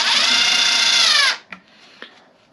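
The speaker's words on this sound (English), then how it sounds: "just pre-drilling some, or pre-setting some screws" A power drill pre-sets screws during a 1600 W solar panel install on a 2018 Fuzion fifth-wheel RV, running in one steady close whine for over a second before stopping, followed by two faint clicks.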